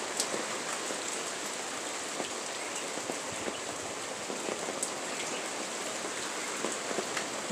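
Heavy rain falls outdoors during a windy little storm, a dense, continuous hiss with scattered drop impacts, steady and moderately loud with no voices.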